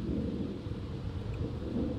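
Thunder from a lightning storm in The Sims 4, a low continuous rumble rolling steadily with faint rain-like hiss above it, moderately loud and unbroken, no speech.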